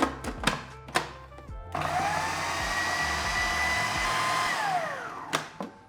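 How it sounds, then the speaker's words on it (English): A blender whirs steadily for about three and a half seconds, mixing lemon juice, tahini and a pinch of salt into a thick paste, with knocks and clatter before and after the run. "we'll blend that together until it becomes a thick paste"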